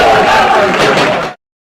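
Home supporters at the Falcone Borsellino ground in Paternò applaud and shout for their amateur Sicilian football side after a match, a loud dense crowd roar that holds steady and then cuts off abruptly.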